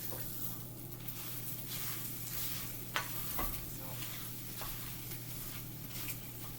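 Food frying in a pan with just a couple of tablespoons of oil for plant-based nachos, a steady close sizzle with occasional stirring scrapes and pops, continuous and with no talk.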